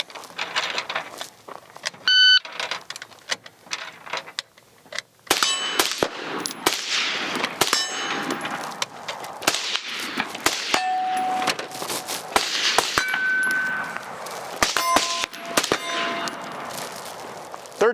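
Sharp metallic clangs and dings from steel targets being hit by rounds from a Palmetto State Armory JAKL rifle at an outdoor range, arriving as a quick irregular string of ringing impacts with short pauses, some louder and some more distant.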